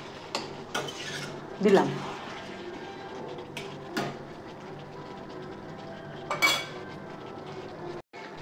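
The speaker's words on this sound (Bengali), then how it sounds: "পরিমাণ মতো মিক্স মশলা দিয়ে দিলাম, ভালোভাবে নেড়ে চেড়ে" Mixed spice being stirred into food in a cooking pan, with a few scraping clinks of a utensil against the metal spaced over several seconds and a brief word spoken.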